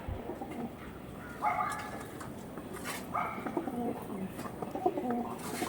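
Pigeons cooing in short low throaty calls amid a busy loft, with other birds and a dog barking nearby, moderately close against a constant rustling background.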